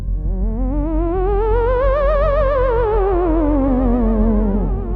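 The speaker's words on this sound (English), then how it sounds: "So you can do that phantom sort of spooky sound like this." A theremin plays an eerie, ghostly tone with heavy vibrato, rising smoothly and then drifting back down in a long, wavering glide, clear and unaccompanied.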